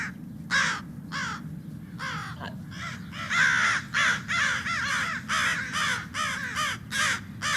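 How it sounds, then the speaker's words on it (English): A group of crows caws raucously while mobbing, with loud, raspy calls repeating in quick overlapping bursts over a steady low rumble of background noise. "It's the sound of crows."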